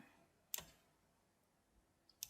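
Two crisp mouse clicks while working in Adobe Illustrator, faint and close, spaced almost two seconds apart against a quiet background.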